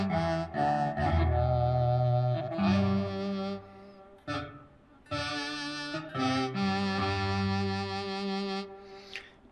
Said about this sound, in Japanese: サックスのソフトでこれギューッと上げるとすごくリバーブがかかるんですけど